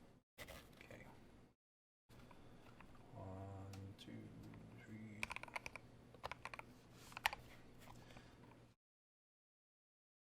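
Key presses on a NEO G67 mechanical keyboard fitted with Tangie switches, a close run of irregular clacks with a voice talking over part of it and a sustained hum in the background.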